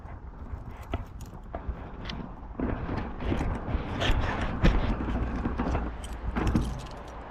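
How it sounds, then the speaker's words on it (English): A bunch of keys jangles and rattles near a 2018 Bobcat E26 mini excavator, the metallic clinks coming in repeated close bursts with handling thumps, louder in the middle. "My keys."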